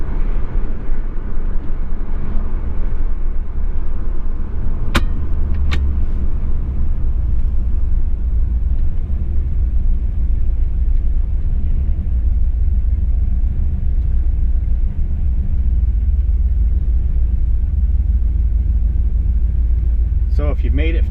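A car with a B&M Pro Gate four-speed automatic shifter driving in second gear after a downshift, a steady loud engine and road rumble heard from inside the cabin, with a couple of short clicks.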